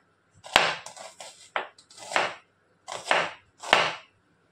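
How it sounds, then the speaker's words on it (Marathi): A large onion being finely chopped with a knife on a cutting board, a series of about seven close, sharp chops in uneven bursts with short pauses between them. "एक कांदा जो मोठा घेतलाय मी तो बारीक कट करून घेते"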